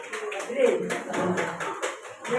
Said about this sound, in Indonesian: kita beri aplaus nomor 1